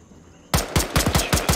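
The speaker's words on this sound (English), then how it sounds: "Sounds like shots north also." Gunfire in the ArmA 3 military shooter rings out after a short quiet lull: roughly six loud, sharp shots in an irregular burst, each with a heavy low thump and a bright crack.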